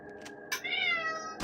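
Cats in the video game Fallout 2 let out a couple of short, close meows in quick succession, clear and alone.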